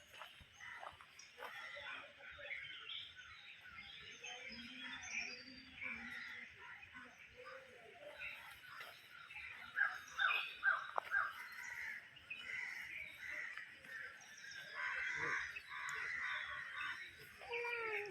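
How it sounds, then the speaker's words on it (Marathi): Birds call steadily in the natural surroundings of a Shiva temple near Pune, a faint busy chorus of chirps and caws that continues throughout with occasional nearby voices. "पक्ष्यांचा आवाज किती छान येतो ना"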